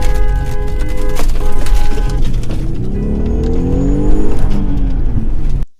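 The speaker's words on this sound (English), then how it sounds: "forced to drive away as a mob surrounded his vehicle, smashed the windows," A car driving off while a mob surrounds it, a loud close engine roar that climbs in pitch as it accelerates, steady for several seconds before cutting off abruptly.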